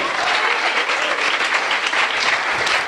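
Loud, sustained applause from a church congregation praising the Lord, a thick continuous wash of many hands clapping close by, with faint voices blended in.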